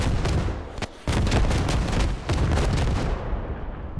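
Rocket strikes and explosions in the military shooter Squad, set in the streets of Fallujah: a dense run of loud, booming blasts and sharp reports follows in quick succession, with a short lull before the barrage resumes.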